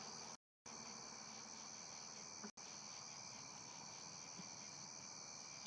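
Crickets chirp outdoors at night in a continuous high-pitched drone, faint and steady, with brief dropouts and no talking, a distant freeway masked beneath them.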